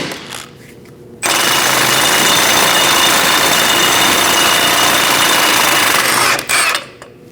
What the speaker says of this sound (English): Using a 21mm socket, we're going to remove this nut and get the ball joint out of the control arm